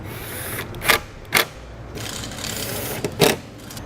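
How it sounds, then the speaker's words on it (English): Screws being driven back into a 2017 Chevrolet tail lamp assembly during trailer wiring installation: a few brief, close mechanical clicks and ratcheting bursts spaced over a few seconds, with no talking. "Reinstall both screws."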